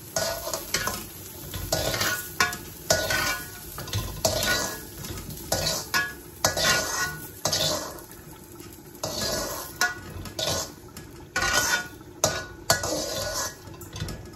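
Village vegetables for a vegetarian dish are stirred and fried in a pot, with close, repeated scraping of a utensil against the metal in an uneven rhythm over a steady sizzle.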